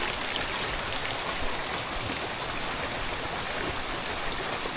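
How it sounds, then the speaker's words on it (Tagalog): Heavy storm rain pours steadily beside a house near a mountain and river, a dense, constant hiss close by with no voices. "Grabe lakas ng ulan."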